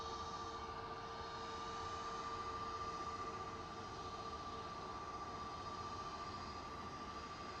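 A Jet2 Airbus A321neo departs from Manchester Airport as a steady, sustained engine roar with a strong whining tone that holds loud and even throughout, with no voices.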